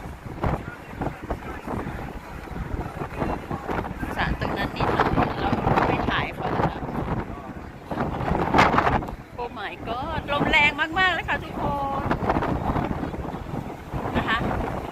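Strong wind buffets the open deck of a Hurtigruten cruise ship at sea off Norway, a continuous loud roaring rush with gusts, heard under someone talking and exclaiming.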